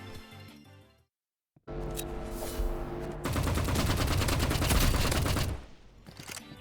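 Rapid automatic gunfire from an AR and an Uzi in the Roblox game Rivals. Dense bursts of shots run under a game soundtrack, and a brief silent gap comes before the firing.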